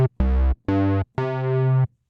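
Three sustained synth bass notes from a punchy commercial patch with a vintage-style filter and the drive raised for mild overdrive, each a thick harmonic-rich tone separated by short gaps, the last held longest, played alone with no talking.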